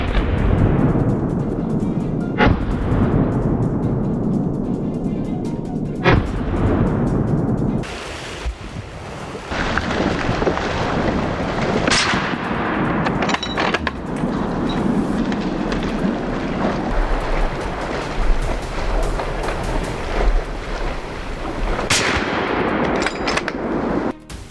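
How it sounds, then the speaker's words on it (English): Rifle shots fired at charging wild boar on a hunt, sharp loud cracks standing out over heavy wind buffeting the microphone, several reports spread across the stretch and no one speaking. "I raised my rifle and pulled the trigger. The first shot rang out"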